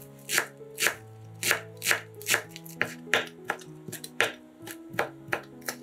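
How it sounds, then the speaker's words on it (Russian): A knife chops green onion on a cutting board in a steady series of crisp, close taps, about two per second, with soft background music and no talking. "Нарезаем зеленый лук."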